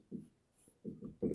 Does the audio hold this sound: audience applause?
no